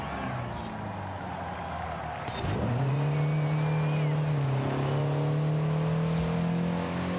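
A 1970 Datsun 510 races in Forza Horizon 5, its engine whirring and then rising into a strong, sustained revving drone as it accelerates, loud and close, with no talk.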